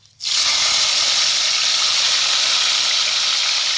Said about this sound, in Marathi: टमाटो तेलात चांगलं भाजून घ्यायचं